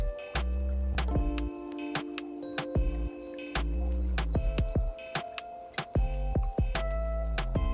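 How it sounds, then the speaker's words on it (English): A small pump on an auto top-up float-switch system runs with dripping, squishing water, giving irregular splashes and gurgles over a low steady hum, quiet and close. "there you can see now the water is pumping up because we hit the level we want to get to"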